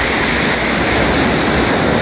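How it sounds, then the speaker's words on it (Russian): Sea waves break steadily on a shore in Abkhazia, a loud, continuous rushing wash of surf with no pauses and no voices. "Вот они волны."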